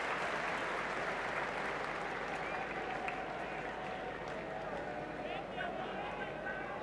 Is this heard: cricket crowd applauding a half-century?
yes